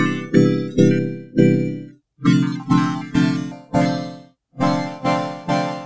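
A synth processed with Melodyne spectrum shuffle plays a series of loud, evenly spaced plucky chord stabs, each decaying quickly, in two groups separated by brief silences, with no voice.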